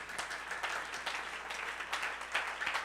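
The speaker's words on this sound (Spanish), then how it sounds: "Fuerte ese aplauso al Señor" Church congregation applauding during a sermon, a moderate, steady patter of many hands clapping with no voices over it, somewhat distant and even throughout.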